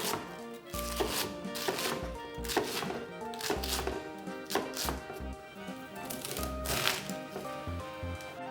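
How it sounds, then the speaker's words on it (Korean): Knife chopping washed cabbage into thick strips on a cutting board, a steady run of sharp, close thunks with no talk. "깨끗이 씻은 양배추 150g은 굵게 채 썰어주세요."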